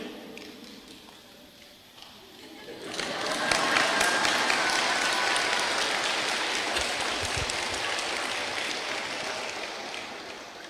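An audience at a Buddhist temple Dharma talk breaks into applause after a quiet stretch, the clapping swelling quickly and then holding as a dense, steady patter to the end.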